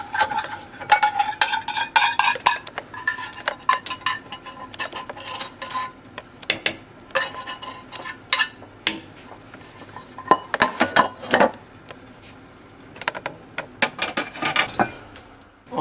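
A spoon stirs and scrapes the bottom of a pot of hot red wine for œufs en meurette, giving uneven metallic clinks and scraping strokes in bursts with pauses, close up and without talk.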